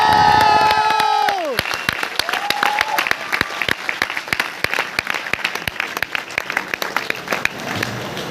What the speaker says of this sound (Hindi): मुझे पता है आपने तालियां क्यों बजाई।